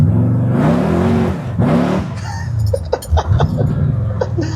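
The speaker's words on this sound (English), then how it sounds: "it probably makes like 300 horsepower just sitting there idling, running" A loud racing V8 engine in a 1969 Ford Mustang rumbles and revs unevenly at idle, with brief bursts of voices and laughter layered over the mechanical roar.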